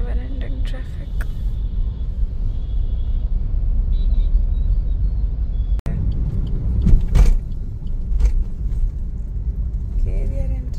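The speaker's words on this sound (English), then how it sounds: "Of course, the never-ending traffic." Steady low road rumble of slow Mumbai traffic heard from inside a moving car, with occasional passing vehicles and brief clicks, while people talk intermittently.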